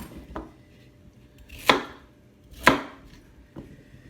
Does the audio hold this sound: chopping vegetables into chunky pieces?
yes